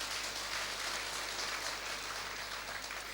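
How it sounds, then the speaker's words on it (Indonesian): A church congregation applauds the organ player during a sermon, a steady, even wash of many hands clapping at a distance, fairly quiet, with no pauses for the whole stretch. "Beri dulu tepuk tangan yang baik bagi dia."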